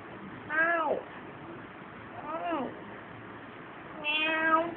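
A cat meows three times, each a drawn-out, wavering cry, with short pauses between them.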